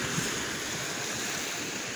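Strong floodwater rushes and overflows in a flooded barangay, a loud continuous roaring wash with no breaks and no voices.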